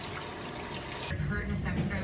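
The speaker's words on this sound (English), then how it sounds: "I'm gonna rinse it through the mesh strainer and then throw it in here" Tap water runs through a mesh strainer as jasmine rice is rinsed at a kitchen sink, a steady rushing splash throughout that grows fuller and heavier in the second half.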